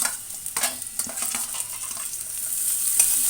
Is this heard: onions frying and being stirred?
yes